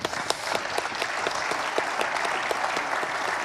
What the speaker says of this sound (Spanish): Al Parlamento, un aplauso,